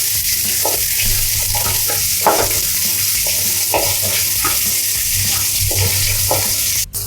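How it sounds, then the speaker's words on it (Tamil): Mustard, cumin and fenugreek seeds sizzle in hot oil for a Tamil pirandai kuzhambu, a loud continuous crackle broken by rhythmic scraping stirs of a spoon against the pan, with a sharp clank near the end. "இந்த எண்ணெயிலே இப்போ கடுகு சேர்த்துக்கலாம். அந்த சீரகமும் வெந்தயமும் சேர்த்துட்டு அப்படியே வதக்கிக்கலாம்."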